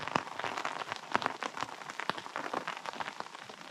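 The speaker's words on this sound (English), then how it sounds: "And there comes the rain." Rain with hail pattering on an improvised tarp shelter during cold wild camping, dense irregular drumming of drops close overhead, steady and fairly loud.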